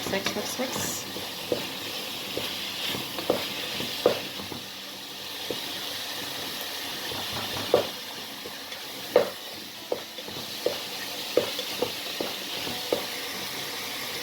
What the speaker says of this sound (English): paprika powder, and drops of soy sauce, and a few drops of chili sauce. And now mix.